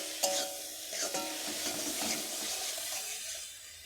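Finger pasta is stirred in a pan with a little mustard oil, giving a soft, close sizzle and a few scraping clinks of the spatula at the start.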